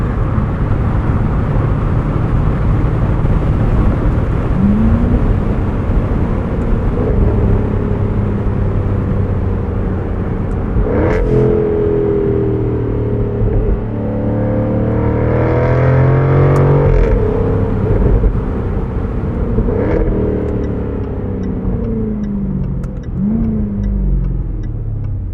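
A Jaguar F-Type R75 convertible V8 with the top down, heard from inside as a loud, continuous engine drone with wind noise that swells, rises and settles while the car drives along.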